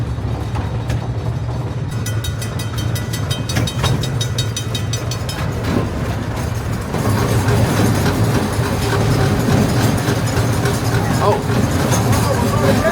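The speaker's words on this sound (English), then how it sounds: "It looks like we're officially pulling back into the station." Steady low rumble of a miniature museum train rolling along, with a louder, busier stretch in the second half as it slows pulling into the station, voices talking faintly over it.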